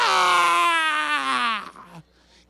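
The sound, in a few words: speaker imitating a woman's loud scream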